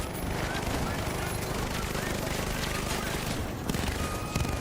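Dense, continuous gunfire from the video game The Finals, with rounds fired steadily in a team firefight and a few sharper bursts near the end, loud and close throughout.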